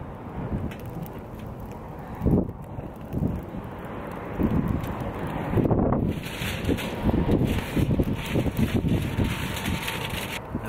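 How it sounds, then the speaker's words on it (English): Strong outdoor wind buffets the microphone in a steady, rumbling roar with gusts that swell and fade across the whole stretch, no voices on top. "Sorry if the audio is bad, but it's kind of windy out here, as you can tell."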